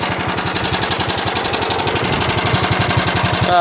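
Small single-cylinder engine of a GX75 riding mower running steadily and loudly at close range, with a rapid, even firing rhythm that sounds rough, on a machine with exhaust problems that is giving off a strong smell.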